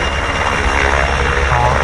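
Helicopter performing display manoeuvres at an air show in Pardubice, a loud continuous rotor and engine roar that stays steady and close throughout.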